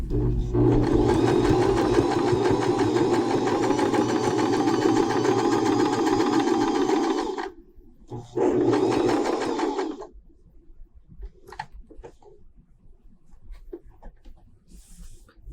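A longarm quilting sewing machine stitches a door hanging with a loud, steady, close mechanical whir for about seven seconds, stops briefly, runs again for two seconds, then gives way to faint handling noises.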